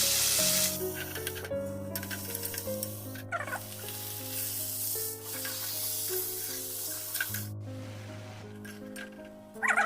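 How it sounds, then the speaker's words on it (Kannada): Chopped onions fry in hot oil and ghee for a chicken gravy, giving a loud, steady close-up sizzle that runs unbroken throughout, with faint tonal sounds in the background. "ಸಣ್ಣದಾಗಿ ಹಚ್ಚಿಟ್ಕೊಂಡಿರೋಂತಹ ಈರುಳ್ಳಿನ ಈಗ ಒಗ್ಗರಣೆಗೆ ಸೇರಿಸ್ತೀನಿ ಈರುಳ್ಳಿ ಚೆನ್ನಾಗಿ ಕೆಂಪಾಗಿ ಫ್ರೈ ಆಗಬೇಕು"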